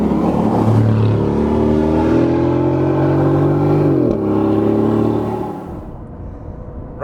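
An Aston Martin Vantage sports car engine revs loud and close, its pitch climbing steadily before a sharp break, then the note drops and fades away toward the end.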